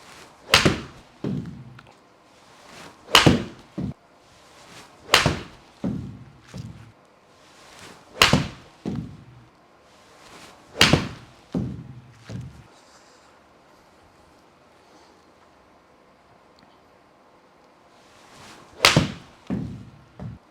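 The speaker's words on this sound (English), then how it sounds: "just done hitting those pitching wedges with the Srixon Q Star" Pitching wedge striking Srixon Q Star Tour golf balls, sharp loud impacts with short tails, about seven shots spaced a few seconds apart, then a long quiet gap before one final strike.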